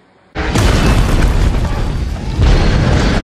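A loud, sustained explosion roars for about three seconds, a deep booming rumble that swells again near the end before cutting off abruptly.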